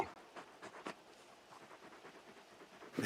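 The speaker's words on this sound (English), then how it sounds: "You're just a big puppy, aren't you? A very big puppy." A large dog pants in Final Fantasy XVI, soft rhythmic breaths in quick bursts, faint and close, with a brief louder sound at the end.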